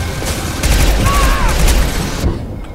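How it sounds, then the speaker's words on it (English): Heavy gunfire and a rocket blast in the Mass Effect 2 video game, a dense, loud burst of combat noise with a brief whooshing streak in the middle, ending in a sudden drop to quiet. "I will shoot you a rocket in your face."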